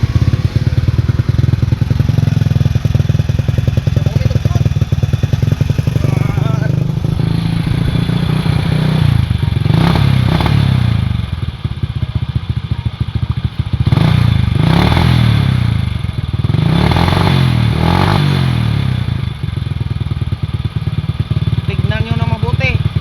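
A motorcycle, its gasoline being drained of water, chugs and revs loudly close by, with a steady engine rumble and repeated surges and clattering thumps as people talk over it.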